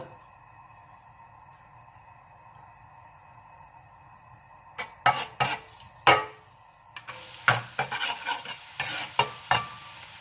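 Garlic is frying in a pan for fried spring rolls, with a low steady sizzle at first, then loud, repeated scraping stirs of the utensil against the pan.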